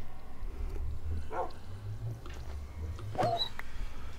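A dog in the Minecraft video game gives a few short yips and whimpers around a boat, faint over a steady low hum and soft game ambience.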